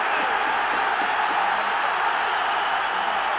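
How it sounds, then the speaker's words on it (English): Football crowd at a Rangers versus Club Brugge match roars steadily in a broad, continuous wash of cheering that fills the stadium without a break. "And the crowd getting right behind Rangers now"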